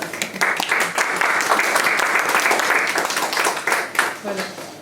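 An audience claps for a young painter with brisk, crowded applause of distinct hand claps that swells and then thins, while voices talk over it.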